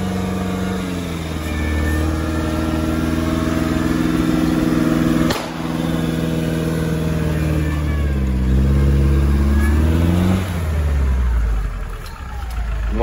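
UAZ Patriot off-road vehicle fitted with a BMW M57 diesel engine, revving loudly and continuously up close, with a brief dip midway and a falling engine note near the end.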